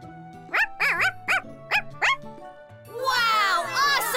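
A voice imitates a puppy yapping with five quick, high barks, followed by several people talking excitedly.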